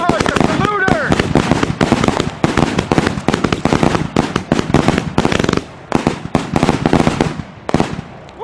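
A 49-shot firework salute cake fires a rapid, loud string of sharp cracking bangs, one after another with almost no pause, before the final shots ring out.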